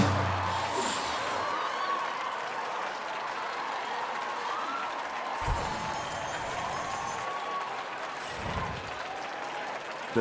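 A crowd in a concert venue in the rhythm game Rock Band 4 claps and cheers steadily throughout, a dense wash of applause with a couple of louder swells of whooping.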